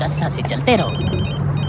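A telephone rings with repeated high electronic bell tones in the background of a Bollywood action film scene, under continuous talk and ambient room hum.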